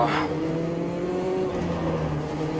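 An F Gen 2 race car on cold tires winds into a corner of the Hockenheim motordrome section in Automobilista 2. A steady, loud engine drone holds throughout, with a brief rougher burst at the start.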